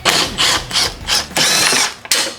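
A ratchet clicks in quick bursts while a battery terminal end is loosened and removed in a Honda Civic engine bay, several rapid pawl runs close by with short pauses between them.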